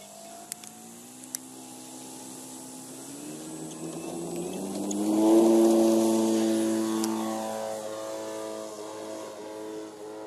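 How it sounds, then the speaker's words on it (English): A quarter-scale de Havilland Gipsy Moth RC model aircraft drones steadily overhead on its maiden flight, the engine tone swelling and rising as it passes nearest midway through, then easing back to a continuous distant hum. "we're going to conduct the maiden flight on our DB Sporting Scale quarter scale de Havilland Gipsy Moth"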